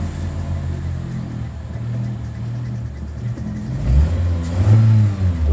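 A Honda Fit engine idles with a low, steady rumble, then is revved hard twice near the end, rising loud and close.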